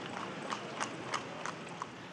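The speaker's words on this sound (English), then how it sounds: "They also turned to horse-drawn carts" Hooves of a horse pulling a cart clip-clop along a street in Cardenas, Cuba, in a brisk, even rhythm of about two steps per second, moderately close, over low background noise.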